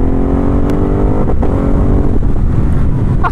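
A 2019 Ducati Hypermotard 950 SP being ridden gives a loud, steady engine roar close to the rider. Wind rush sits beneath it, and the pitch shifts slightly as the revs rise and fall.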